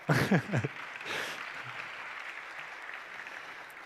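A conference audience at a software launch keynote claps after a brief voice at the start, the applause swelling to a short loud burst, then holding as steady, moderate clapping across the hall.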